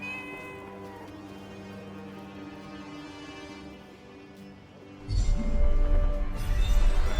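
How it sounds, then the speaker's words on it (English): A cat in the video game Forspoken meows over a sustained droning game score, with a louder, fuller burst of sound swelling in near the end. "A cat."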